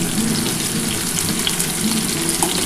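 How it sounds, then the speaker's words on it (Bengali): Pointed gourd coated with salt and turmeric fries with onion in a pan, making a loud, steady, unbroken sizzle with no voices. "পটলটার সাথে পেঁয়াজটা একটুখানি লাল লাল করে ভাজতে হবে"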